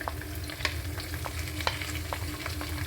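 Crushed shallots frying in a pan for a spicy chicken dish, a dense close sizzle broken by sharp scraping strokes of a stirring spoon.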